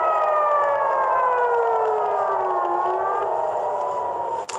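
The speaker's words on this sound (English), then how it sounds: "Those are air raid sirens in Israel tonight." Air raid sirens wail at night in Israel, a sustained rising-and-falling howl carrying loudly over a quiet background.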